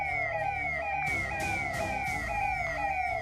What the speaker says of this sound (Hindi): सायरन बजाते निकलते पुलिस के जवान